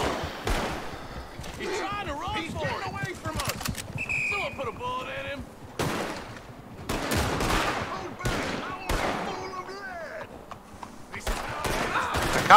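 Cops shoot in Red Dead Redemption, with scattered bursts of gunfire cracking out at intervals, some close and some farther off, while players talk over the action and hooves clop nearby.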